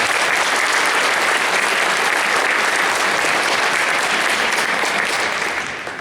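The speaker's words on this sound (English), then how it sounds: "If you guys can give them a round of applause." A school concert audience applauds adult volunteer fiddlers with steady, dense clapping that fills the room for about six seconds before easing slightly at the end.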